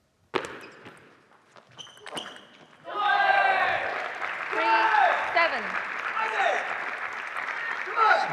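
Cheering and applause from a tennis match crowd in a Seattle vs. Texas West Division meeting: a few sharp knocks first, then loud, sustained clapping with whoops and shouts that swell and hold to the end.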